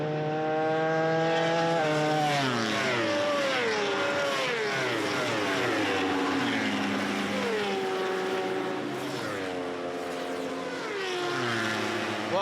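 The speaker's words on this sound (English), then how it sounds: "love to hear the different sounds of those bikes. The drone of the Ducati, it is so smooth when it changes gears" Superbike racing motorcycles at an Australian Superbike Championship round in Sydney, including a Ducati, a cross-plane crank Yamaha and a four-cylinder Kawasaki, scream past with rising and falling engine pitch through gear changes, loud and sustained with no talk.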